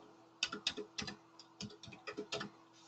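Keys clatter on a computer keyboard while figures go into an Excel spreadsheet, a quick close run of about a dozen crisp clicks in uneven bursts.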